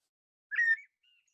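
A small songbird gives a single short, clear whistled phrase up close, then a pause and a faint, thin note after it, with silence around them.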